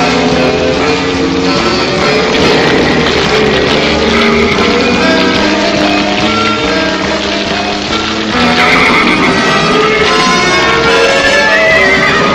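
Horses neighing loudly with clip-clop of hooves over a dense mixed background, whinnies rising repeatedly through a continuous, busy scene that swells louder near the end.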